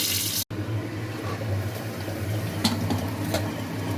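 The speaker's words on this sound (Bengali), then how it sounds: "মটনটাকে এখন কষছি আমি কুকারের মধ্যে" Mutton sizzles and bubbles steadily in a pressure cooker with cloves, cinnamon and bay leaf, a close, continuous hiss of frying with a few light clinks from stirring.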